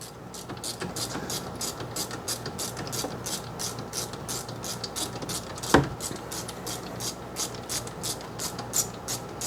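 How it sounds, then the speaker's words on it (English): A 12mm socket ratchet clicking in fast, even strokes while loosening the rear brake caliper bolts on a Honda Pilot, with one louder metallic knock midway, close and clear with no speech. "we're going to take the 12mm socket and we're going to remove the caliper from the caliper bracket"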